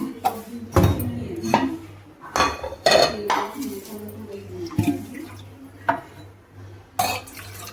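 Dishes, steel pots and cutlery clatter and clink in a home kitchen while water is fetched. The sharp metallic knocks come in irregular bursts, close by, with faint water sounds between them.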